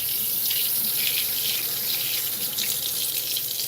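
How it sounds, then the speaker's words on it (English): Water from a tap runs steadily in a hushed, continuous rush while hands are rinsed in a sink, fairly close and with no talking. "Rinse my hands here real quick."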